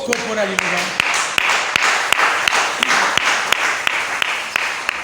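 A church congregation applauds after a scripture reading with dense, continuous clapping. Sharp individual claps stand out at a steady rhythm over the crowd, and a voice is heard briefly at the start.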